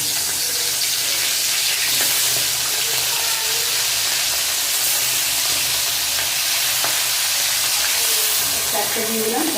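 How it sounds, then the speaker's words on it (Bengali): Pomfret fish frying in hot oil, a steady loud close sizzle throughout with a few faint clinks near the end. "একটা একটা করে মাছ ভেজে নেব।"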